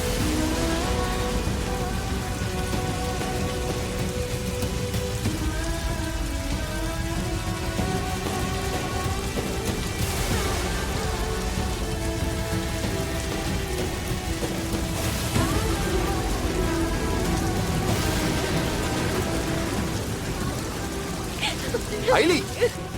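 Steady heavy rain pours down throughout, a dense continuous hiss with a faint rumble of thunder, while voices and music-like tones run underneath.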